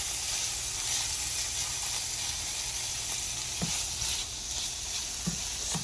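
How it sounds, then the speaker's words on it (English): Bacon sizzles and crackles in a frying pan with a steady, close hiss and occasional pops as the strips are stirred, and nobody speaks. "now that our bacon is sizzling"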